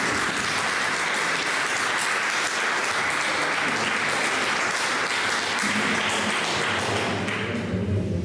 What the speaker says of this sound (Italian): Un applauso a Gianni